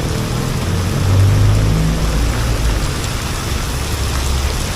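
Sudden heavy rain pours down during a motorcycle ride, a loud continuous hiss of rain with a low rumbling wind and engine bed underneath, swelling briefly then holding steady.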